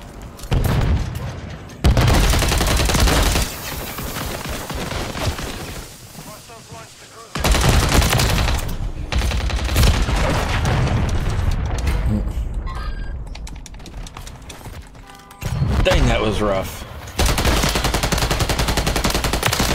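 Gunfire in Modern Warfare 3, with loud rapid automatic bursts and repeated shots in several clusters across the stretch, separated by brief quieter gaps and mechanical clatter.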